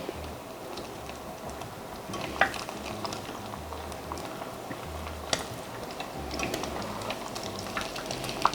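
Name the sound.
frying dried pollock in oil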